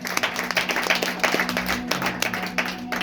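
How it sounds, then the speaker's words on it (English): Worshippers at a church service clap in a quick, uneven patter with a low steady hum underneath. "Give God a big hand of applause."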